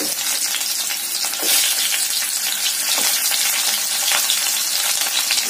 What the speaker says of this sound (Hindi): एबे ना पुटल के टिके आने भाजमा